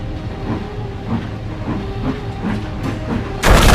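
A train engine shoves burning trucks out of a shed, giving a steady rhythmic chuffing with hissing and rail clatter, loud and continuous, and ending in a sudden burst of harsh noise.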